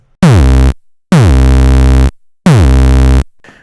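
Three loud, harsh sawtooth synth notes heavily saturated with FabFilter Saturn, each held for well under a second with short silences between, buzzing with dense harmonics; no voices.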